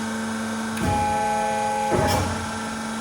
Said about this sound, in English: it also starts to guillotine cut further and further down, and it stays down until you release